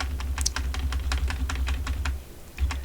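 Repeated key presses on a computer keyboard, a steady run of crisp clicks from pressing Ctrl+D over and over, heard close over a low background hum.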